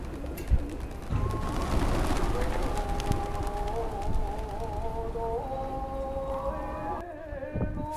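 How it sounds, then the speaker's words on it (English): Pigeons cooing at Osu Kannon Temple in Nagoya, a soft, repeated warbling coo from several birds close by, over a busy outdoor murmur of voices and footsteps. "Did I mention there are pigeons?"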